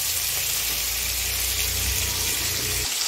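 Chicken pieces fry in hot oil until golden brown, producing a dense continuous sizzle with a low rumbling undertone, close and steady before cutting off just at the end; no talking.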